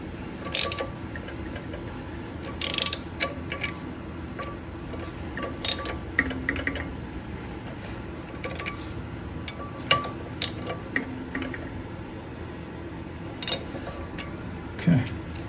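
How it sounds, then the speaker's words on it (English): Torque wrench ratcheting and clicking as woodchipper blade bolts are tightened on a Spitfire woodchipper, several short separated bursts of clicks with quiet gaps between them. "I got my torque wrench, so I'm just going to tighten these down to 35 foot-pounds"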